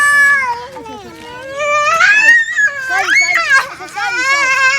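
A little girl wails and sobs in high, wavering cries after being slapped by her older brother, loud and close, with other children's voices mixed in.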